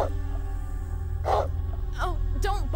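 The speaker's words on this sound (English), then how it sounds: "Oh, don't bark so much." A dog barks and yips in the Sega Saturn survival horror game Deep Fear, a few short barks and whimpers over a steady low background hum, with game voices talking around them.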